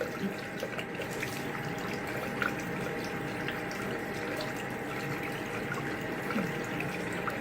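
A bathroom faucet runs with a steady, fairly quiet stream of water while a face is rinsed, a constant wash of splashing with no voices.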